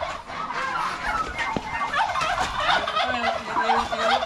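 Poultry calling repeatedly amid a busy, noisy outdoor background, with gobbling and clucking sounds rising and falling throughout.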